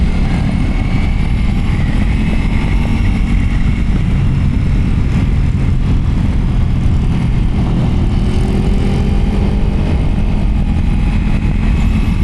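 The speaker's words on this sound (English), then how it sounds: "first ride on the Ninja H2 SX right there" A Kawasaki Ninja H2 SX SE motorcycle rides away, its engine roar heard as a loud, continuous low drone with wind rush that holds steady throughout.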